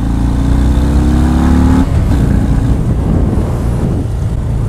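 A 2019 Harley-Davidson FXDR 114 motorcycle engine revving up loudly nearby, a deep throbbing exhaust note that rises in pitch and then drops into a rough, rumbling roar.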